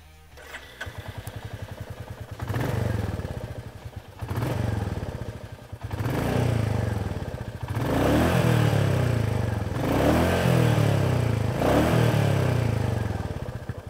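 Royal Enfield Classic 350 motorcycle starting up, then revving repeatedly in five or six loud, close bursts whose exhaust note rises and falls with a thumping low rumble between them.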